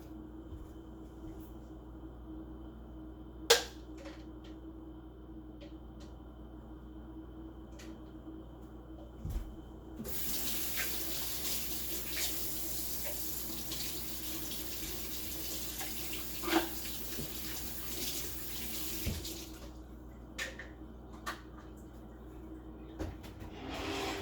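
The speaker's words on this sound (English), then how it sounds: "I'm done cleaning up my Aeropress. I just need to rinse it a little bit." Tap water runs into a sink to rinse an Aeropress coffee maker, a steady hiss of flowing water in the middle stretch, framed by quieter moments with a few clicks and knocks of handling.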